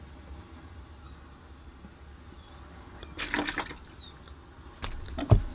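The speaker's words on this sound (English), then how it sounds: "what we'll do next is change our water." Muddy watercolor rinse water being changed: quiet background hum, then a few sloshing, splashing bursts and a brief pouring trickle near the end, close by.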